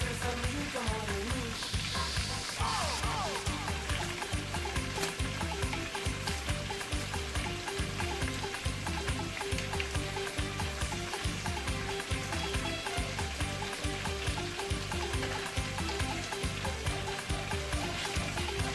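Stewed goat fries in a pot while being stirred, a dense continuous sizzle with rhythmic scraping strokes repeating steadily, close and fairly loud throughout.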